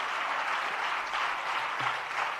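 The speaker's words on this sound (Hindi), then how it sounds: "जरा तालियां बजा दीजिएगा सबके लिए।" Steady applause from an audience, a dense wash of many hands clapping at moderate distance, with no speech over it.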